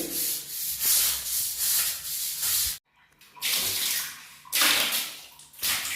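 A cleaning brush scrubs a bathroom floor in rapid, harsh strokes, loud and continuous with one brief pause, alongside splashes of water and no talking.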